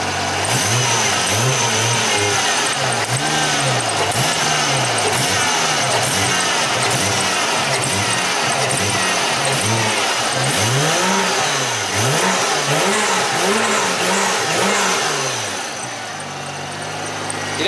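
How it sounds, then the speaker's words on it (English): A car engine revs repeatedly in steady surges, rising and falling in pitch with a loud intake roar, then settles lower near the end. "I don't think I ever heard the intake suck up that fast"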